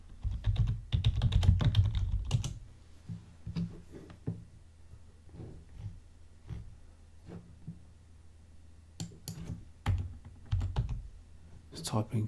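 Typing on a computer keyboard while searching for a stock photo: clusters of quick close key clicks in several bursts with brief pauses, alongside someone talking.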